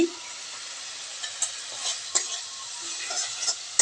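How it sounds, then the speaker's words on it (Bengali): Spice powder sautés in a hot pan, a constant soft sizzle broken by intermittent scrapes and light clinks of a spoon, heard up close with no voices. "এক চামচ ভালোভাবে কষিয়ে নিব"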